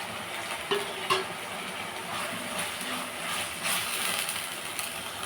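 Chopped tomatoes and onions sauté in a pan for Tamil-style chicken kulumbu, a steady soft sizzle with a few faint stirring clicks and scrapes throughout.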